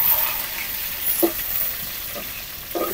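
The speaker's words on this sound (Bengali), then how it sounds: "এখন শুটকি একটু ভাজা নিব" Dried fish (shutki) frying in oil in a wok over a clay stove, a steady close sizzle with a few soft stirring scrapes.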